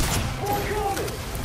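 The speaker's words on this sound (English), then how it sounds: "this gun is badass" Gunfire from a weapon in a first-person shooter game, a rapid fusillade of shots under excited talk from a player.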